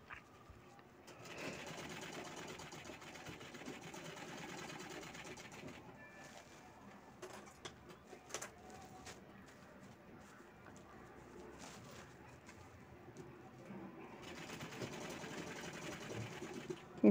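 A sewing machine stitches the bottom seam of a cloth bag in quiet, steady bursts, with pauses between runs and pigeons cooing faintly in the background.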